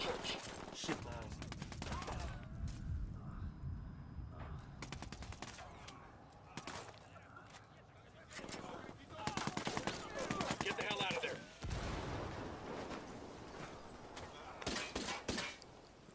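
Gunfire pouring from a church in the shooter Ghost Recon Wildlands: loud, overlapping automatic volleys and single cracks that come in waves for the whole stretch, with a brief lull midway.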